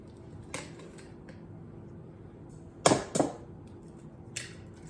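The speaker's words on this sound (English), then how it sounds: "with the eggs, in order to get them open, you can crack them on the side like this" An egg cracked against the side of a mixing bowl while making French toast: two sharp, close taps in quick succession, followed by a faint softer tap, over a quiet kitchen hum.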